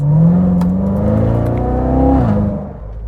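A 2019 Chevrolet Corvette Z06 with 650 horsepower accelerates hard, its loud engine note climbing steadily in pitch for about two seconds before easing off, heard close and without talk.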